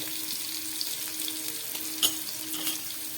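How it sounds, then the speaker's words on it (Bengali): Half-boiled potatoes fry in a pan with salt and turmeric for aloo dum, giving a steady, bright, watery sizzle up close, with a brief clink partway through. "আর আলুগুলোকে খুব ভালো করে আমি এবার ভেজে নেবো"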